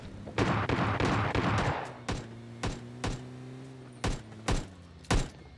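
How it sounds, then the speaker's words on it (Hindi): Gunfire in the mobile shooter PUBG Lite: a rapid burst of shots, then single sharp reports spaced about a second apart over a low background hum. "आपने फायरिंग सुन ली होगी"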